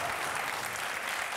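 Studio audience applause on a Susana Gimenez television show in 2005, a dense steady wash of many hands clapping at once, with no gaps.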